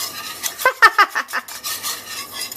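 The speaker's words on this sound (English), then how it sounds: "we're slowly going to whisk and incorporate in" A whisk scrapes and clinks against a pan as butter is worked into a simmering sauce, a short run of quick metallic taps and swishes at close range with no talking.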